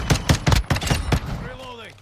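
About six sharp, evenly spaced gunshots in Call of Duty Modern Warfare II, close and punchy, followed by a short spoken callout as the shots stop.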